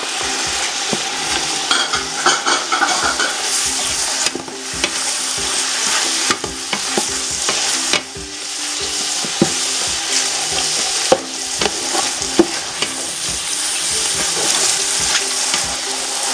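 Mushrooms and onions sizzle in a hot pan while a utensil stirs and scrapes through them repeatedly, a steady close frying hiss punctuated by clattering stirs, with no talk.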